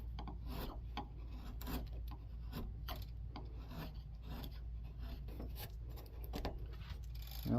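A small hand chisel scrapes and pares a wooden barley twist candlestick holder, giving faint, close, repeated rasping strokes in an uneven rhythm over a low steady hum.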